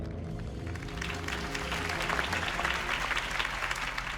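A crowd applauds after Harvey Dent's campaign speech in the Batman Telltale video game, a dense, sustained clapping that swells slightly over a few seconds, with music underneath.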